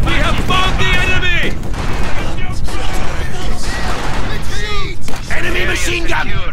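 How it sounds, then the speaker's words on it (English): Enemy machine gun fire during a winter battle after a blizzard, loud, dense bursts of shots and booms crowding the whole stretch, with shouted voices over the top. "Enemy machine gun!"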